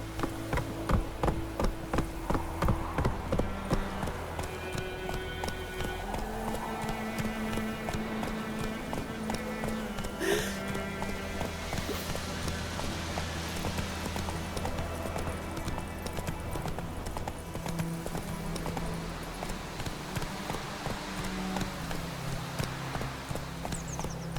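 Roach the horse gallops in The Witcher 3 video game, steady rhythmic hoofbeats pounding throughout under a layer of game music and ambience.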